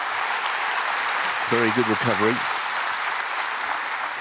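Snooker audience at the World Grand Prix applauding, steady clapping from the arena crowd filling the whole clip while a commentator speaks briefly over it.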